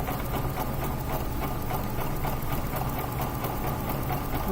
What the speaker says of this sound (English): And we're going to zigzag our seam.